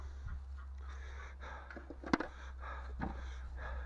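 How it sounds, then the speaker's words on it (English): A young duck quacking and honking inside a barn, a series of short nasal calls at close range over a steady low hum, with one sharp louder burst midway. "But I think she's just a confused young duck."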